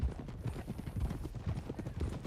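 Horse hooves clip-clop steadily in Red Dead Redemption 2, several horses moving together along a hill road, with a brisk, overlapping rhythm of dull thuds that runs throughout at moderate loudness.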